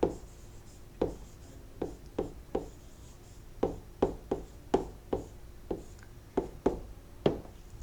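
Chalk or pen tapping and scraping on a board while writing out a compound-interest math solution for a class 8 lesson, a quiet series of sharp strokes at an irregular pace with no talk.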